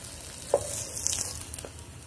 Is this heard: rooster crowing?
no